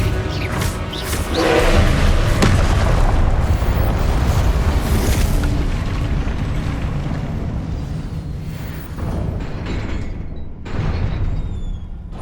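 A Confringo blasting spell in Hogwarts Legacy: a loud, sustained crashing explosion that roars for several seconds, then trails off into rumbling impacts and a final sharp burst, with no voices.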